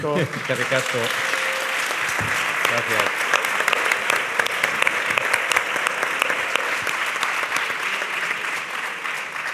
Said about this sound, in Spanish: Ese aplauso que sirva de recepción y de bienvenida